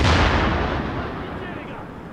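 A single heavy gunshot booms in a video game, loud and close, its rumbling tail fading over two seconds.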